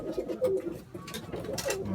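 Soft, repeated pigeon cooing close by, low throaty calls rising and falling with faint rustling in the background.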